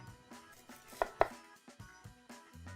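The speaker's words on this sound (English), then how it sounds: "I'm going to stabilize my onion, pinch my knife, cut through the root and the flowering end" Chef knife chopping through an onion on a cutting board: a string of crisp, close cuts at an uneven pace, two of them sharper and louder than the others, with no talking.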